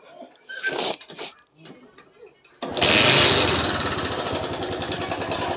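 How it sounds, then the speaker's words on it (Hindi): TVS Sport motorcycle kick-started with a faulty engine, catching abruptly after brief talk and then idling loudly with a steady rapid knocking clatter close by. "आप देखें इंजन की साउंड किस तरीके से यानी कि खटखट खटखट जैसा साउंड आ रहा है।"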